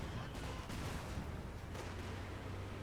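Mortar half-tracks firing on infantry in Company of Heroes 2, heard as a dense, continuous wash of distant booming artillery and gunfire that stays loud and steady throughout with no pauses.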